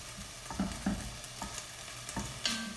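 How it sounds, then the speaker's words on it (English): Ground meat and onions frying in a pan for cabbage beef soup are stirred, giving a continuous close sizzle with several scraping, knocking strokes of the utensil against the pan. No one speaks. "And stir this meat and onions one more time."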